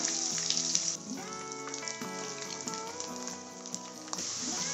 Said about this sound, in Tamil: இது கூட பூண்டு பல் எடுத்து வச்சதை சேர்த்திக்கலாம். நல்லா வதக்கி விட்டுக்கலாம்.